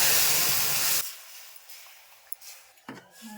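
Dal (lentils) tipped into a hot pan of fried onions: a loud steady sizzle that drops off abruptly, followed by quieter hissing and a few clanks of a utensil against the pan.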